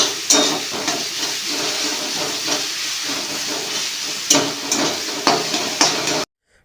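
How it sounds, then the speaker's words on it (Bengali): Onion frying in a pan for Bengali-style dal tadka, a continuous close sizzling hiss broken by several sharp stirring scrapes, ending abruptly. "এখন কাজ হচ্ছে পেঁয়াজটাকে ভালো করে ভাজা।"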